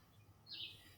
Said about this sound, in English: Thorndike and Nelson, you hear the birds chirping